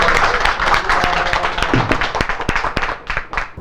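An audience claps at a film-culture lecture after a two-hour session with director Chung Ji-young, a loud, close round of applause that thins into scattered claps toward the end.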